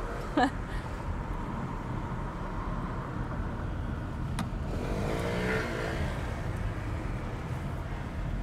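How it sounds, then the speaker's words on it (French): A scooter rides along tram tracks in the Chêne area under police watch, its steady motor droning under busy street traffic noise, with a brief metallic screech and faint voices in the background. "un scooteriste circule sur les voies de tram sous les yeux des policiers"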